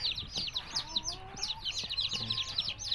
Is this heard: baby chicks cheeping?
yes